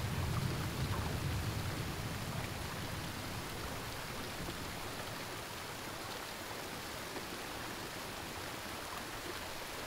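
Waterfall in the video game Never Alone, a steady broadband rush of falling water that stays constant and fairly loud throughout, with no talk over it.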